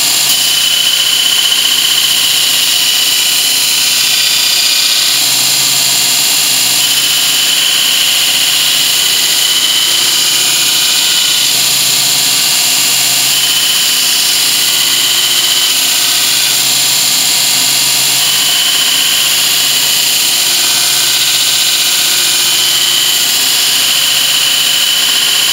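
Steady, loud grinding of steel on a grinder while shaping a knife blade in a workshop, a continuous high-pitched whine that holds without a break from start to finish.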